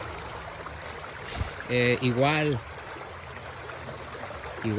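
A stream at Arroyos de Cuáyo Buenavista in Axtla de Terrazas flows with a steady rushing murmur, while a person speaks briefly over it.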